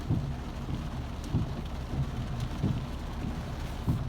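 Heavy rain falling in Udon, Thailand, a steady dense wash with low rumbling pulses recurring throughout, loud and continuous with no voices.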